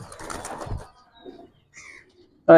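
Cobra (Jacobin) pigeons coo softly and briefly, then end with a sudden loud burst of wing flapping close by.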